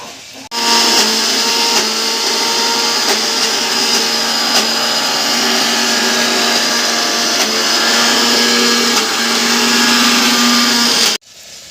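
A blender grinds raw taro with onion and garlic into a paste, running loud and steady with a droning whine for about eleven seconds before cutting off abruptly.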